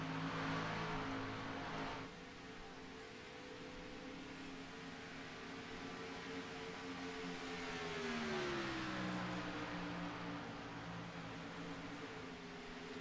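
Two Kellogg's-liveried radio-controlled race cars battle closely at a SCI-ROC event, their motors whining steadily with pitch sweeping up and down through corners, loud and continuous with no talk.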